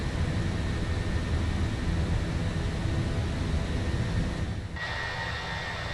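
An aircraft on its takeoff roll in Microsoft Flight Simulator, giving a loud, steady broadband engine roar that continues alone and drops slightly in level near the end.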